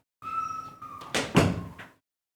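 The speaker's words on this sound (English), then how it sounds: "let me go ahead and close the door here" An indoor door is swung shut, with a creaky sliding movement followed by a solid thud as it closes and a softer knock just after, all close by in a quiet room.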